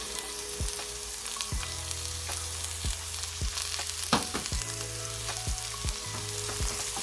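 Oil sizzles steadily in a frying pan as celery and noodle ingredients cook, with a continuous bright hiss broken by several sharp clinks and scrapes of a utensil against the pan, no talking.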